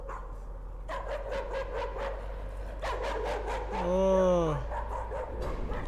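A dog barking in the horror video game Layers of Fear, with a run of repeated, evenly spaced barks and a drawn-out whining yelp, while someone speaks briefly over the quiet background.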